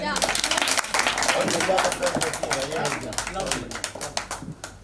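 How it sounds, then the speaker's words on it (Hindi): Audience on a TV show set claps for an interview guest, with loud crisp claps that thin out and fade toward the end while voices carry on underneath. "जोरदार तालियां"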